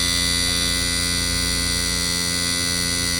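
A steady, loud electrical hum with a constant droning tone, unchanging throughout, from a worn air conditioner compressor running noisily close by.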